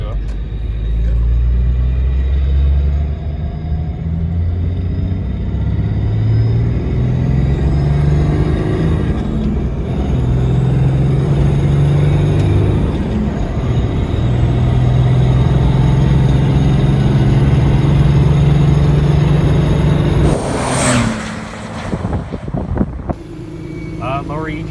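A Cummins diesel truck fitted with a compound turbo kit rolls into the throttle, giving a loud, sustained low engine rumble that builds steadily. Near the end a sharp rise and a whooshing burst are heard, and a voice talks at times.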